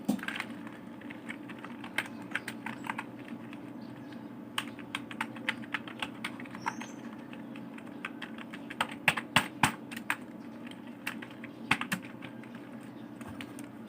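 Someone types a username and password on a computer keyboard, with quick irregular key clicks close by and a few louder taps near the middle, over a low steady hum.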